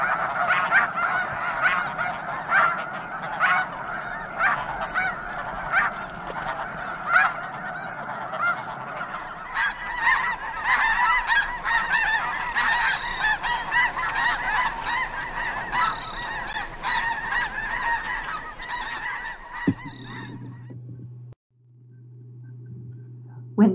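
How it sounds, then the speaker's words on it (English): A large flock of snow geese honks continuously, a dense chorus of overlapping calls that carries on before a low hum takes over near the end. "Snow goose."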